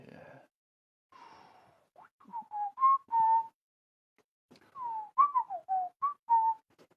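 Someone whistles a meandering tune nearby, short melodic phrases broken by pauses, with a few soft breaths between.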